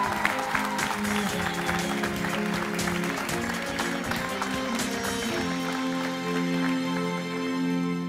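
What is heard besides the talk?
studio audience applause on TV show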